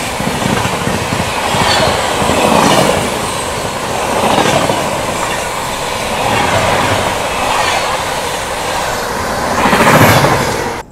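An Indian express train rushes past close by on the rails at a crossing near Delhi, a loud continuous roar with rhythmic wheel clatter swelling and easing in waves, and no voices.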